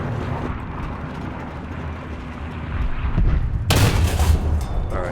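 A single heavy T-26 tank cannon shot in War Thunder's realistic ground battle, a sudden loud boom over a steady rumbling engine and battlefield noise, with the blast rolling on for about a second.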